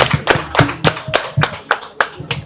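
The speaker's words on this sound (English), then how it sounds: "Members, please clap" A room full of Rotary club members applauds at an award ceremony, with close, distinct individual hand claps landing in an uneven, brisk rhythm throughout.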